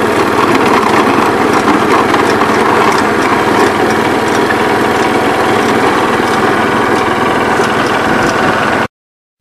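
A John Deere 424 garden tractor fitted with a 38-inch snowblower runs steadily outdoors, its small engine droning loud and continuous without pause, the level holding even throughout until it cuts off near the end.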